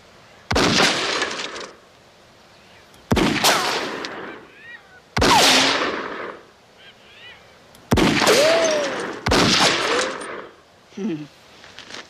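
Handgun shots from a 9mm pistol ring out in a 1994 thriller film, five sharp, loud reports spaced a couple of seconds apart, each with a ringing tail and a quieter sound at the end.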